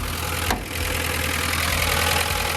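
A rough, failing engine of a VAZ Zhiguli car, leaking oil and coolant, idles steadily up close, its low rumble continuous and loud, with a brief sharp knock near the start.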